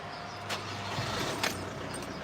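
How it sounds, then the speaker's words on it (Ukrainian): A used car's engine runs after starting, a low steady idle rumble close by, with a couple of brief brighter bursts of noise over it. "Заводиться ідеально."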